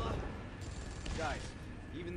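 Rapid bursts of gunfire from the mobile battle-royale game PUBG Mobile, fought against a MechaGodzilla boss, roar continuously with dense explosive noise while someone talks excitedly over the shooting.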